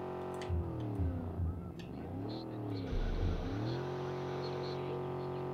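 A car engine revs hard and strains while the vehicle is stuck in Far Cry 5, the pitch rising and falling in steady surges before settling into a sustained drone, loud and close with no talking.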